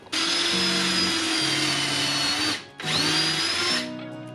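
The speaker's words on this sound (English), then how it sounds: "our drill bit will go right in here and we'll drill a hole until it stops on the collar" A power drill whines steadily at high speed, boring into butcher block wood, stops briefly, then bores in again for a second burst before winding down; loud and close.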